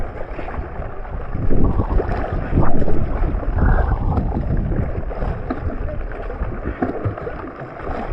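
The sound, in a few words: wind and choppy waves on a boat in the rain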